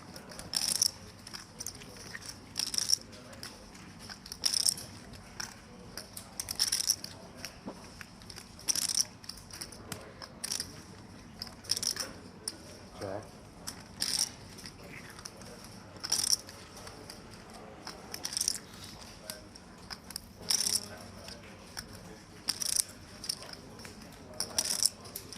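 Cards being shuffled at a tournament poker table, a regular series of crisp riffling bursts every couple of seconds over a quiet room murmur.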